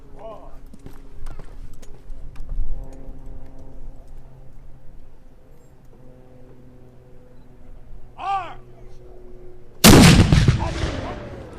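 A historic cannon at Fort George in Niagara-on-the-Lake, Ontario fires one loud, sudden blast near the end. Before it come quieter voices, a low hum and scattered clops and knocks.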